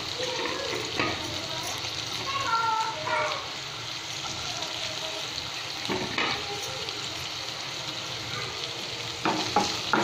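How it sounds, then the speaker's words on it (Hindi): Vegetables sautéing over garlic in a pan for chicken manchow soup: a steady close sizzle with occasional stirring scrapes and clatters, no talking. "सब्जियों को हम भूनेंगे"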